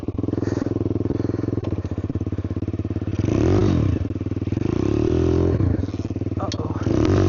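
A kickstarted dirt bike with a missing clutch cable runs in first gear, its engine loud and close with a rapid, steady putter, occasional revs and clattery thumps.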